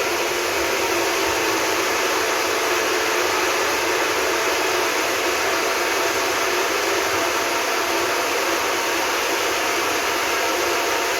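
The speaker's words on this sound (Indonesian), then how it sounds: "Pastikan di blender sampai dia benar-benar blend ya." A kitchen blender runs steadily and loudly on its own, a dense, even whirring roar that holds without pause while a drink is blended at home in Australia.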